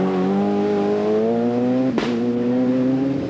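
A two-wheel-drive Ford Escort rally car at the 1998 Lurgan Park Rally locks its brakes. Its engine drones loudly and steadily throughout, broken by one brief, harsh scrape midway.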